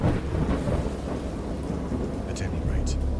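A thunderstorm in a horror video game, with a deep rolling rumble of thunder under a steady hiss of heavy rain, loud and continuous.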